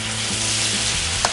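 Tempe mendoan slices frying in hot oil, a steady dense sizzle with low bubbling throughout and a brief sharper crackle near the end.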